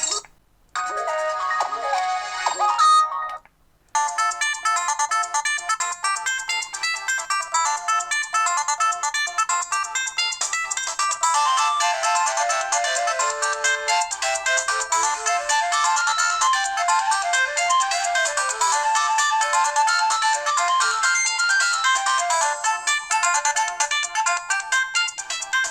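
A mobile phone plays a bright electronic ringtone melody, then after a brief break a second tune loops on steadily and loud for a long stretch.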